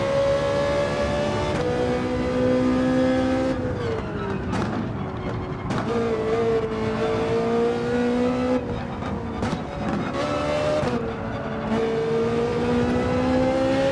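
A GT3 race car in Gran Turismo 7, driven with manual paddle shifts, drones steadily. Engine pitch climbs and then drops at each of several gear changes over a long stretch of racing.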